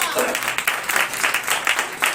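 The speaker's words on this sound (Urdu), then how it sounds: "زوردار تالی بجائیے گا" Congregation applauding during a church sermon, a dense patter of many hands clapping in quick irregular bursts, fairly loud and close, continuing throughout the short stretch.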